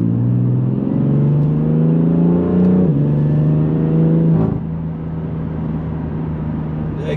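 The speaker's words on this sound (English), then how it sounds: "Exhaust is pretty loud." A BMW M3 with a BootMod3 GTS tune revs loudly up close, its exhaust note rising in pitch in repeated pulls before settling into a steady, lower idle rumble.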